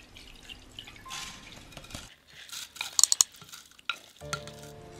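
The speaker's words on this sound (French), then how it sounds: "on égoutte le riz." Soaked rice drains in a strainer over a bowl, with soft dripping and rustling, several light clinks up close, and a louder rattle near the end.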